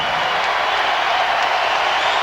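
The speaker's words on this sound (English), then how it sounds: "They got to take Kobe out for the acclamation of the crowd." Arena crowd at a late-1990s NBA game cheers and applauds as a 19-year-old Kobe Bryant leaves the court after a career high, a dense, steady roar of clapping and voices filling the space without a break.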